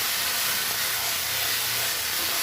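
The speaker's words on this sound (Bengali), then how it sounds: "আর কিছুক্ষণ নাড়বো মশলাটা।" Chili-spiced masala paste fries in hot oil for a katla fish, potato and pointed gourd curry, a loud, steady, close sizzling hiss that runs unbroken throughout with no talking.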